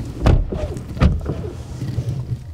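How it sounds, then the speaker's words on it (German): The door of a 2023 Porsche Taycan Turbo S closing, heard as a couple of dull, close thuds over low background rumble. "die Tür, die wir jetzt mal schließen werden."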